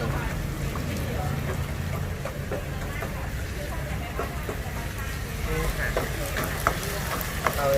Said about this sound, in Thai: ใส่ไข่ลงไปผัดด้านข้างค่ะ